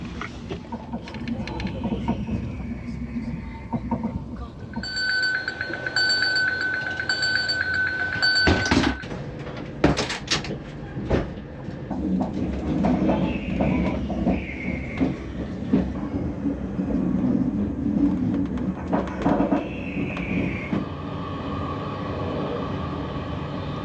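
Interior of a long-distance train on a journey from Scotland, a steady rumble and rattle of wheels on track throughout, with a brief chime and a short announcement tone midway and occasional clanks, unbroken for the whole stretch.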